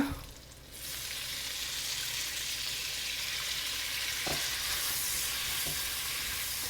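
Udon noodles sizzling in a hot pan for Korean carbonara, a loud steady frying hiss starting after a brief pause, with a couple of faint utensil taps as they are mixed, close up and without talk.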